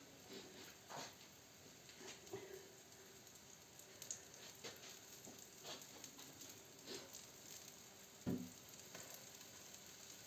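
Soft, continuous sizzling of Ukrainian cottage cheese pancakes (syrnyky) frying in a pan, quiet and close, with occasional small pops and clicks.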